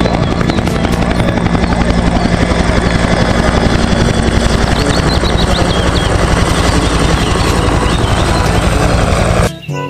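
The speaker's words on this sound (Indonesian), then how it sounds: "yang ini ada helikopter militer" Steady, loud rotor chopping from a toy military helicopter with a whirring motor, continuous for nearly ten seconds before cutting off abruptly at the end.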